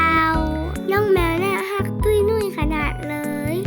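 Cat meowing at a cafe area of a fishing spot, repeated harmonic meows close and loud, with a voice and other voices nearby.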